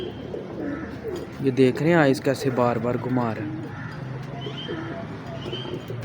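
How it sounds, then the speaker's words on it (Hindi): Pigeons kept by a fancier coo in a few soft, throaty bursts nearby while someone talks over them at close range. "ऐसे अक्लमंद कबूतर हैं ना"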